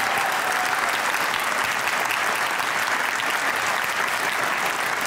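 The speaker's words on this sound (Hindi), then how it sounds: "एक बार जोर से तालियां बजाइएगा क्योंकि आप लोग मौजूद हैं।" Loud, sustained audience applause at a Hindi-language comedy show, dense steady clapping from a large crowd filling the whole stretch without pause.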